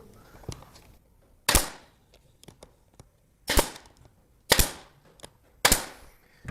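Pneumatic nail gun driving nails into a wooden floating shelf, four sharp loud shots spaced about a second apart, alone with faint background noise between them.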